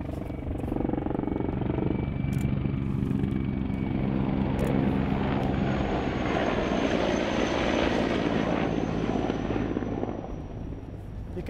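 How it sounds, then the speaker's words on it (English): A military helicopter's rotor and engine roar steadily and loudly over a city, swelling as it passes close overhead, then easing slightly toward the end. "That's the helicopter,"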